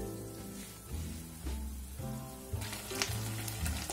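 Beef searing in oil in a wok over high heat, with a continuous close sizzle and crackle under light background music.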